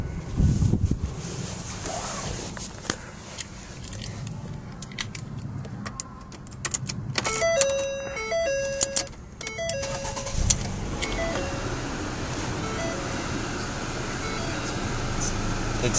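A 2011 Ford Fusion diesel with automatic transmission starting from cold, keys jangling and a brief crank before the engine catches and settles into a steady rough idle, heard close with wind noise across the microphone.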